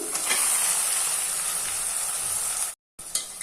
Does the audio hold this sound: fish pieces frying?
yes